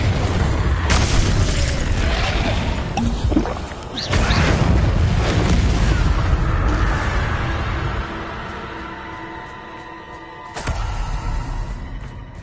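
Booming fire-spell blasts in the Hogwarts Legacy video game, two heavy explosive bursts with rumbling low-end tails and crackle, loud and close, separated by roaring ambience and a fading ringing tail, with no talking.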